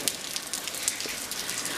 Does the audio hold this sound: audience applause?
no